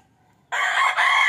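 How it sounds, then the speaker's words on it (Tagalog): A Rhode Island rooster in a rooftop chicken cage crows once, loud and close, a bright sustained call that starts abruptly after a moment of near silence. "Kulungan to ni Atlas. Na ginawa nating kulungan ng ating Rhode Island chicken na bagong bili"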